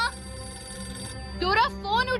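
Telephone ringing indoors in a family home, a repeated electronic ring tone that sits under overlapping voices, with a child and an adult speaking over the ringing in the second half.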